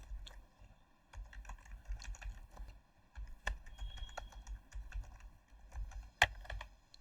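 Someone types a sentence on a computer keyboard: irregular bursts of clicking keystrokes with short pauses and a few sharper, louder taps, up close in a quiet room.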